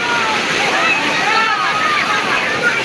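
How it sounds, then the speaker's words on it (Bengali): Large sea waves wash onto a beach at the port city of Chittagong in a loud, continuous roaring rush, with a voice talking over it. "এইমাত্র সাগরের ঢেউ এসে অনেক বড় ঢেউ আসছে"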